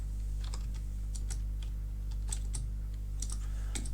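A class name is typed on a computer keyboard in quick, light clicks arriving in short irregular bursts, close and crisp over a steady low electrical hum, with no talking.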